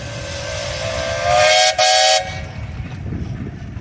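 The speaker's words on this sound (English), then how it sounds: "How about a whistle there, Brian?" A Mason steam traction engine at a steam tractor parade lets out a loud, piercing steam whistle blast of about a second, briefly interrupted and resumed, over outdoor crowd and engine background.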